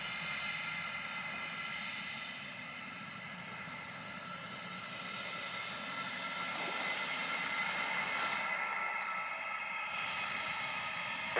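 An American Airlines jet holding on runway 07 in Jamaica before takeoff gives off a steady, moderately loud engine whine and rumble that swells slightly over time, heard from nearby without talk.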